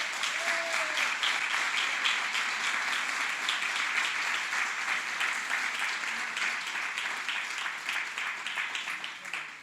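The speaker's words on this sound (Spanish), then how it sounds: "Un aplauso para los de la alabanza, por favor." A church congregation at a worship service gives the worship team a long, sustained round of applause, a dense wash of clapping that holds steady for several seconds before easing slightly.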